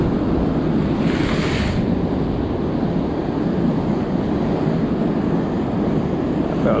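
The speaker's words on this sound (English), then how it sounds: "The waves are bigger than I want them, but it's fishable, so I'm happy." Large ocean waves crash continuously on the Cornwall shore during bass lure fishing, a loud, unbroken roar of surf with heavy wind buffeting the microphone and a brief hiss of spray early on.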